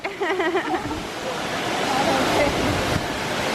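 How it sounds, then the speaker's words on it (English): A powerful high-pressure waterfall in China roars as a steady, loud wash of spray and rushing water close by, starting with a brief burst of voices before the water noise fills everything. "We came across a really, impactful waterfall, very high in pressure, which was cool."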